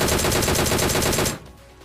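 Rapid automatic gunfire from a shooting video game rattles in a dense, loud burst of evenly spaced shots for over a second, then cuts off abruptly into near silence.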